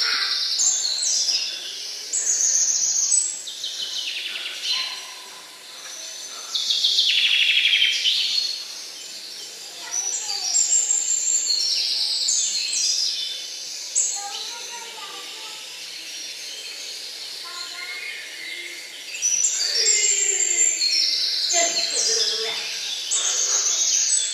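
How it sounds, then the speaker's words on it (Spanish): Small bird chirping in repeated high, bright bursts throughout, fairly close and lively, with hissy noise around the calls. "Mira ese pajarito."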